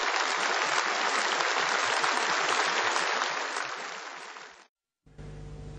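Warm, sustained applause fills the Great Hall of the People in Beijing at a 2012 Communist Party congress gathering. The dense clapping stays loud for several seconds, then tapers off before an abrupt cut.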